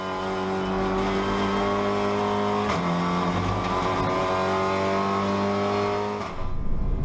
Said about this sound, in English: You hear the gears whining.